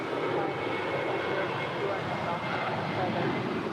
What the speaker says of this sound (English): This next departure is Alaska Airlines Flight 558 departing to Loretto. It's a 5-year-old Boeing 737-900 ER.